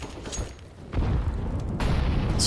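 Molotov cocktail in Counter-Strike, a low thump as it lands followed by a sustained roaring whoosh of flames that swells and holds, loud and close.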